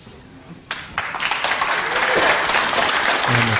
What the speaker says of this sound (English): He made a straight in and everybody clapped.